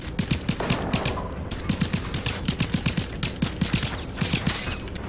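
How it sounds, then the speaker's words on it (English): Heavy gunfire in a video game battle, rapid bursts of automatic shots in quick rhythmic clusters, loud and close, with a continuous din of combat behind them. "I'm under heavy fire."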